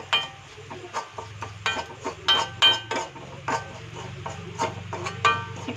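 A spoon stirring asafoetida and turmeric powder in a pan for quick mango pickle, repeated light clinks and scrapes in an uneven rhythm over a low hum.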